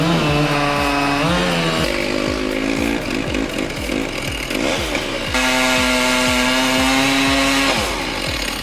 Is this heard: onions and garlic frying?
no